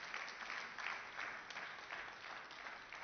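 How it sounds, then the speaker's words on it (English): A crowd applauds steadily at a 2017 corporate award ceremony, a continuous even wash of clapping heard at a fairly low level and some distance away. "please a round of applause for all our corporate TAMS ambassadors"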